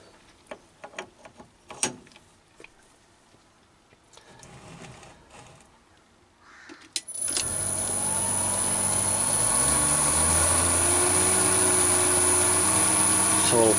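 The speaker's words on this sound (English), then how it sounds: "I've got my 16mm piece of brass up in the Chinese Mini Lathe chuck" A Chinese mini lathe turns a 16mm brass bar with a DCMT insert tool: a few clicks and handling knocks, then the motor starts and settles into a steady, loud whine with a faint hum underneath, continuing without talk.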